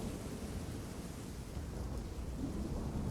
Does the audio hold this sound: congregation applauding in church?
no